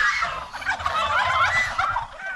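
A turkey gobbles in a rapid, warbling burst, loud and close, with no talking around it.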